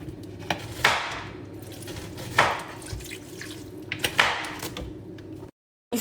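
Water splashing and dripping into a saucepan while a marinade of oil and Himalayan salt is prepared, three bright pours and splashes against kitchen background noise, then a brief cut to silence.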